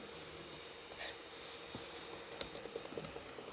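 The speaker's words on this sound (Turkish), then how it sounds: "bugün bilgisayardayım hatta tuşlara bile basıyorum" Computer keyboard keys are pressed in a quiet room, giving soft, irregular clicks that bunch together toward the end.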